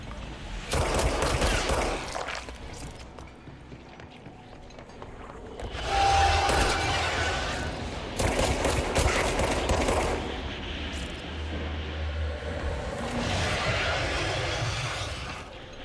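Video game gunfire aimed at targets: sustained rapid bursts of loud automatic fire in several long stretches, over a constant rumbling game background, with no talking.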